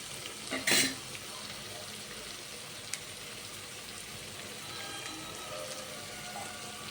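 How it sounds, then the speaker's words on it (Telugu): Eggs fry with Maggi masala in a pan for egg fried rice, giving a steady close sizzle that runs the whole time, with one short louder crackling burst near the start and no talking. "ఎగ్స్ ఫ్రై అయిన తర్వాత మ్యాగీ మసాలా వేసి బాగా ఫ్రై చేసుకొని"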